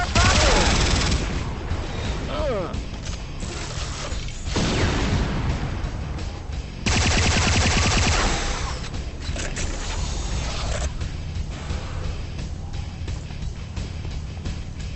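Gunfire and explosive blasts from the Renegade video game: dense, loud volleys of shots and booms continuing for the whole stretch with little letup, close and overlapping.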